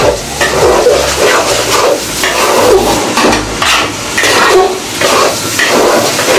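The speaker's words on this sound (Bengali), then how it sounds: "এটা ভালো করে কষাবো, তাহলে এটা আমি কষাইতে থাকি।" Khichuri being sautéed in a pot, a steady sizzle with repeated stirring and scraping of a spoon against the metal, close and continuous throughout.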